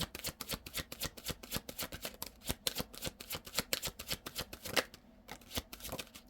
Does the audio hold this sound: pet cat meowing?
no